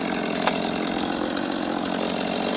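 Stihl MS250 chainsaw running steadily at a high, buzzing idle-to-mid throttle, close and loud, with an unbroken engine drone and a brief click near the start.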